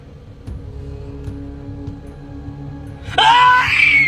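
A woman breaks into a loud, high scream inside a parked car, sudden and close after a few seconds of quiet, breathy murmuring.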